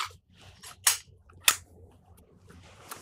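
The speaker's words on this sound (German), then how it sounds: "Spannt die Waffe und trefft einfach." Dry-fire clicks from cocked pistols held in a two-handed grip during special-forces shooting training, several crisp separate snaps spaced over a few seconds against a quiet room.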